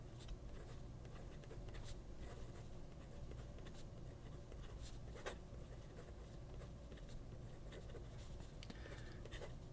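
Pilot fountain pen with a stub nib scratching across paper, a steady faint scribble of short strokes continuing throughout against a low background hum.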